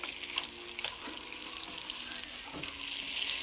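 A leg of lamb sears in a hot Dutch oven, giving a steady close sizzle with a few soft clanks and shifting sounds as the roast is flipped.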